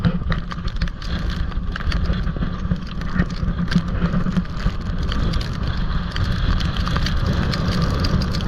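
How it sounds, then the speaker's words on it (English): Wind and heavy rain lashing a beach in Nova Scotia during the outer bands of Hurricane Teddy, a constant loud roaring wash with gusty buffeting throughout and no talk. "it is windy and raining like crazy right now"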